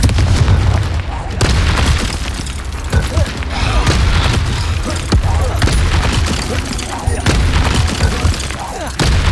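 Confringo fire-spell explosions in Hogwarts Legacy during a goblin village battle, a dense, loud run of booming blasts and rumbling impacts with shouted spell names and other voices over the top.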